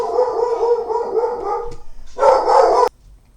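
A dog barks indoors at a mail carrier, a run of loud, close barks with a brief pause, then a final burst that cuts off sharply.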